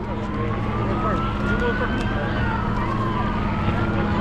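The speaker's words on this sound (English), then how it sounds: "I hear sirens coming in." Sirens wail in the distance at a protest during a federal raid in Los Angeles, rising and falling under crowd noise and nearby talk, sounding as though they are drawing closer.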